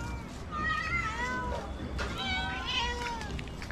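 A cat gives several drawn-out, wavering meows in close succession, loud and near, with background noise and some human sound around it.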